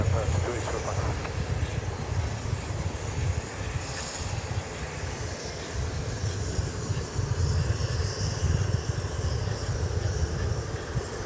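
A jet takes off from runway 13 left at Dallas Love Field, Texas. Its engine roar stays loud and continuous, with a low rumble and broadband hiss, and a faint voice runs underneath.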